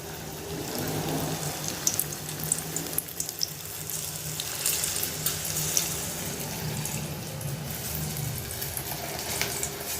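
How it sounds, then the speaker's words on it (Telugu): Chikkudukaya masala bajjis fry in hot oil, giving a steady, dense sizzle and crackle that runs close and continuous for the whole stretch with no talking. "ఇగో నేను బజ్జీలు వేస్తున్నా ఇగో వేడి వేడి బజ్జీలు"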